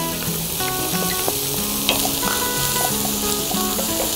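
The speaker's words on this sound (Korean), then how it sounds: "샬롯까지 넣어서 볶아줍니다." Shallots sauté for a vongole paella with tomato and peas already in the pan, giving a loud, steady close-up sizzle and crackle with occasional stirring scrapes, and no voices.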